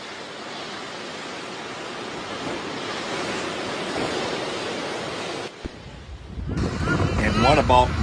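Ocean surf roars as a steady, broad wash of breaking waves for several seconds before cutting abruptly to a different, rougher noisy background.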